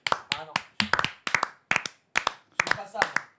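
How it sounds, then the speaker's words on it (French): Hands clap in a loose, irregular rhythm of sharp, close slaps, some coming in quick pairs, mixed with people talking and laughing. "Vous applaudissez, vous, des deux mains ou d'une main?"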